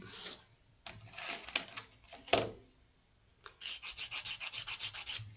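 A wire-wrapped pendant's edges get sanded with 1000 grit sandpaper, giving short bursts of close scratchy rubbing followed by a faster, steady series of rhythmic back-and-forth strokes.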